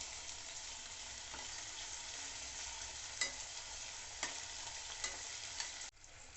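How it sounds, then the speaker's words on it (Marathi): Onion and tomato softening in a pan for chicken biryani give a steady, soft frying sizzle, with a few light clicks of a spoon stirring and scraping against the pan near the end. "आता त्यात आपण टोमॅटो घालून घेऊया. तो पण आपल्याला सॉफ्ट करून घ्यायचा आहे."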